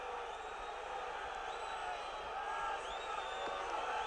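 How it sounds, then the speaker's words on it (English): A football stadium crowd at a 1973 European Cup Winners' Cup final between AC Milan and Leeds United reacts to a late foul with a steady, distant roar of voices, whistles and scattered whoops. "listen to the reaction of the crowd"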